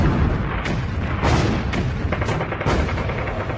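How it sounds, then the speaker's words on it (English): Continuous, heavy barrage of 155mm field artillery guns firing in a World War II battle in France. Dense rumbling booms overlap into a loud, unbroken roar with a few sharper blasts standing out. "the 155mm guns of the 191st Field Artillery use withering fire to hold back the panzers"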